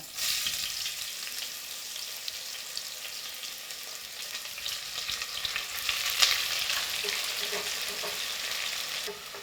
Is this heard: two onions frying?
yes